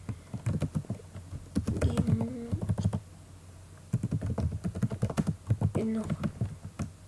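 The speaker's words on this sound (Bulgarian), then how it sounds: "Много така малко ми шуми клавиатурата," Fast clattering keystrokes on a noisy computer keyboard during a video game, arriving in dense bursts with short pauses, heard close under someone speaking.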